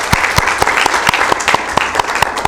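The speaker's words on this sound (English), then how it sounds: "Can we give each and every one of them a round of applause?" Sparse, uneven clapping from a small audience at a county commission meeting in Sacramento, individual claps sharp and close, continuing without pause.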